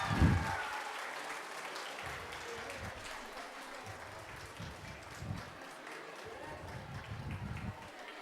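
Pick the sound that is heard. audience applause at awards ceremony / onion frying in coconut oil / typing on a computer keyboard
audience applause at awards ceremony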